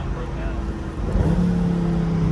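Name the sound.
car engine revving with rev-matched downshift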